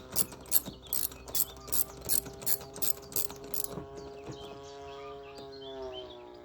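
A vehicle wheel is refitted in a shed, with a run of rapid ratcheting clicks from a hand tool tightening the nuts, followed by quieter clanks and faint birdsong in the background.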